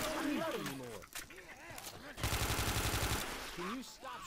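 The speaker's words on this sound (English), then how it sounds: "Why are these guns so loud?" Guns fire in Left 4 Dead 2 as a rapid, loud burst of about a second, with people talking excitedly before and after.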